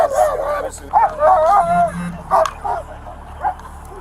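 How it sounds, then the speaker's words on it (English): A dog inside a police vehicle or nearby during an arrest gives short yips and whimpering bow-wow barks, a few bursts over several seconds, close by with officers talking over it. "Just keep the dog in there if you can."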